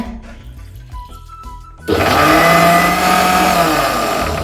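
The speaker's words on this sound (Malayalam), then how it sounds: "കരിക്ക് അരച്ചെടുക്കാം" A mixer grinder switches on after a quiet kitchen moment and whirs loudly and steadily as it grinds tender coconut with its water, close up with no talking.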